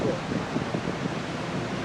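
Wind blowing outdoors, a steady broad rushing noise that holds evenly throughout, with low buffeting on the microphone and no distinct events.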